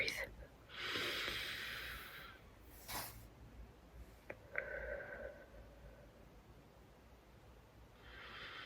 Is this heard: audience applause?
no